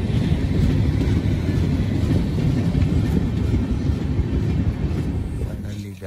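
Passenger train on the Telangana Express between Hyderabad and Delhi coming to a stop in fog, a steady loud rolling rumble that fades slightly at the end.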